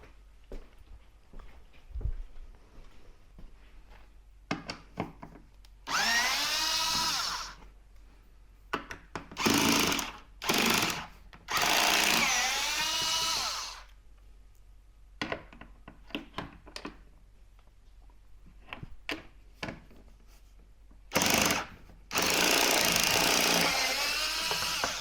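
A power driver whines in several loud, separate bursts while backing T25 screws out of Harley speakers, each run lasting a second or two, with quiet handling clicks and rattles in between.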